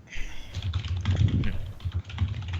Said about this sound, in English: all this typing is making me hard to think